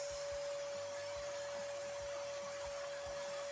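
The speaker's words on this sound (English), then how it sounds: "gonna vacuum that up with my other vacuum" A shop vacuum sucks up workshop dust with a steady, loud motor roar and a constant high whine, running alone throughout.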